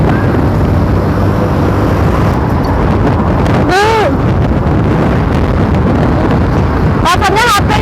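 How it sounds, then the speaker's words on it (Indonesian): Strong wind buffets a phone's microphone outdoors in a village near Bukittinggi, with loud, constant rumbling roar throughout and brief squeaky chirping sounds over it. "Rasanya HP-nya kayak mau jatuh teman-teman, karena anginnya kenceng banget."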